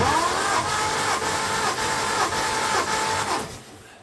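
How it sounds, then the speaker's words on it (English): The engine of a Humber Super Snipe Mk IV cranks over on the starter with the throttle wide open during a compression test, a loud, steady rhythmic churning that runs for about three seconds before fading off. "Turn it over."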